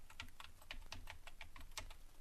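Rapid, crisp keystrokes as someone types on a computer keyboard into a text field, a steady run of close, distinct clicks with no talking.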